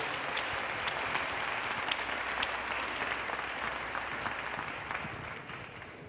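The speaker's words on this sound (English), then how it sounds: "You can applaud him again." A steady, sustained wash of audience applause fills a ceremony hall at a tech event, many hands clapping evenly at moderate volume and slowly tapering near the end.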